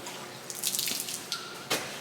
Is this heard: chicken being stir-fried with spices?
no